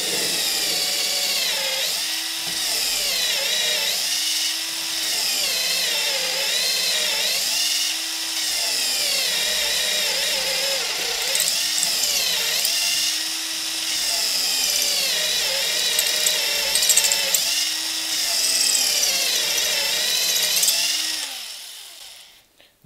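Power drill fitted with a glass drill bit boring into brick, a steady loud whine with repeated pitch dips as the bit bites and eases, running continuously and cutting out near the end.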